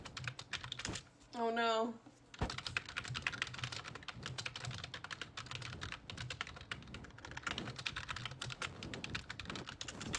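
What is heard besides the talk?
typing on a computer keyboard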